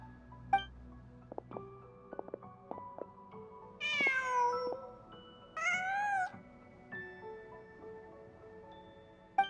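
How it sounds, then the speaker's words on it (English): A cat in Genshin Impact gives two clear, drawn-out meows a couple of seconds apart, set against quiet game music with soft plucked notes. "Just a cat."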